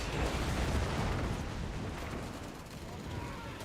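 An AT half-track keeps firing during a Company of Heroes 3 battle: a dense, loud, continuous roar of booming gunfire and blasts that fills the whole stretch without letup.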